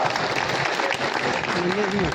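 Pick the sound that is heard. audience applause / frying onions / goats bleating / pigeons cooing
audience applause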